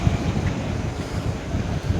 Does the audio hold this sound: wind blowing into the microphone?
yes